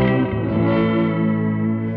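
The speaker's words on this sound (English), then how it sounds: "So you can hear that modulation start to come in." An electric guitar through a Fender effects pedal with modulated delay sustains a single loud, shimmering chord whose wavering, chorus-like warble swells steadily over two seconds.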